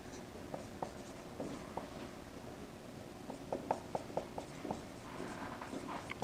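Writing on a board during an abstract algebra lecture on group actions, faint scratching strokes and light taps coming in irregular bursts over a quiet room hiss.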